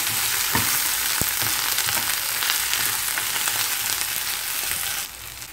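Mint leaves and shredded coconut sizzle in a hot pan for chutney, a loud continuous frying hiss with faint stirring taps, easing slightly near the end.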